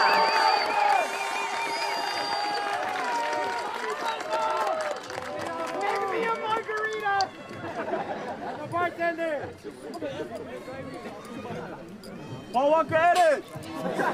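A graduation crowd for Nava College Preparatory Academy's class of 2026 fills the space with busy chatter, whoops and cheering, with voices overlapping throughout and louder excited shouts near the end.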